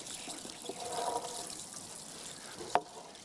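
Newly planted rose cuttings of Rosa complicata being watered in an autumn garden: a soft, steady trickle and patter of water, fairly faint, with one brief sharper splash near the end.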